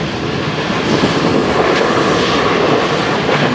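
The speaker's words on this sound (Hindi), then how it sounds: "पास करने जा रही है कराकरम एक्सप्रेस अपनी स्पीड के साथ" Karakoram Express roaring through Sarhari station at speed in Pakistan, a loud, dense, continuous rush of wheels and wagons close by, with no voices over it.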